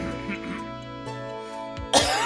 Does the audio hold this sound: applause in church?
no